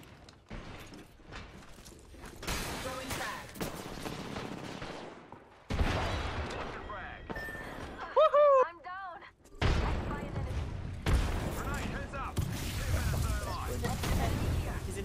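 Gunfire and a thrown frag grenade in the Apex Legends video game, bursts of shots and mechanical clatter across the stretch with a brief electronic warble midway, under voices of players talking.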